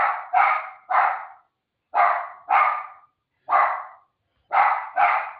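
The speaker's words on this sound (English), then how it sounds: "Oh my God, my dog." A dog barks loudly and close by in a series of sharp barks, mostly in quick pairs separated by short pauses, with no other sound behind them.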